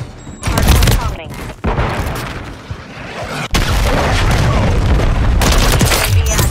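A stun grenade going off in a Call of Duty match: loud, sharp bangs and booming bursts mixed with rapid gunfire and battle noise, with brief quieter gaps between blasts.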